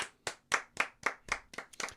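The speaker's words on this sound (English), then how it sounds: "That deserves a round of applause" Eight sharp hand claps in an even, steady rhythm, close and fairly loud, with no voices.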